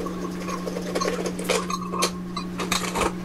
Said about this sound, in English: we're gonna need to let go of the seats by unscrewing it first